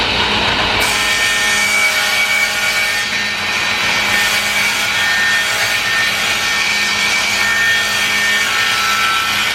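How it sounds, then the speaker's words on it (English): A power saw rips a sheet of plywood into strips, a loud, close, sustained whining roar of blade through wood that barely dips across the whole stretch. "So I'm going to rip a piece of this ply down."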